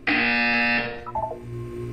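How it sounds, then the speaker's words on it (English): Portal 2 test-chamber buzzer gives one loud, harsh sustained blast of nearly a second, cutting off into a few quieter electronic blips and low hum. "You will hear a buzzer."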